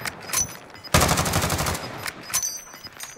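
Gunfire rattles in the Warzone video game: a couple of sharp early shots, then a sustained rapid automatic burst, followed by a few more scattered shots, loud and close.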